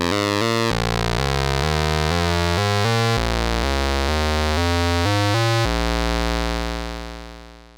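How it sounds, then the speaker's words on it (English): A Moog Spectravox oscillator plays a rapid run of bright, buzzy sawtooth and pulse-wave notes, loud and close, ending on a sustained held tone that fades out. "Spectravox features one voltage controlled oscillator that can produce a sawtooth, or a pulse wave with variable pulse width"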